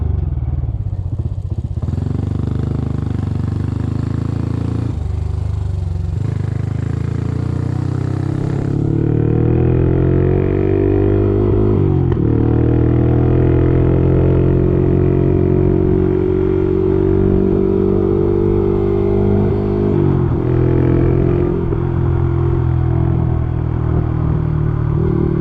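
A Honda CT motorcycle cruises in third gear at a steady, easy idle, its low engine drone close and continuous with a slight rise in pitch partway through and faint clatter, no talking.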